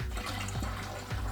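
Water running into a twin-turbo street car's cooling system in place of coolant, a steady close trickle and splash with a low hum underneath.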